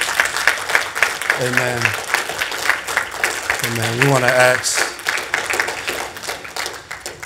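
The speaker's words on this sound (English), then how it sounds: "Give God a hand clap of praise." A church congregation claps in praise during a worship service, steady crowd clapping running throughout while voices call out and a preacher speaks over it.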